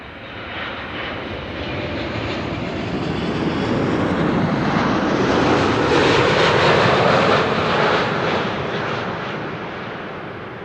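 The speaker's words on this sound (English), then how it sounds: "Landing attempt number 2 for KLM Flight 760." A KLM Boeing 777 passes on its second landing attempt, its jet engines a loud, broad roar that swells toward the middle and then slowly fades, heard alone without talk.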